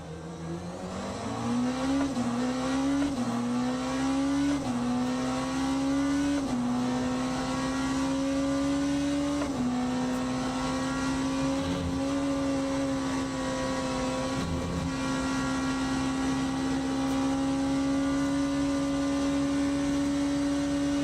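Race car engines in the Le Mans Ultimate racing game, including a Porsche, hold a loud, steady high-pitched drone that climbs through gear changes, then settles into a sustained whine near the end of a multiclass race.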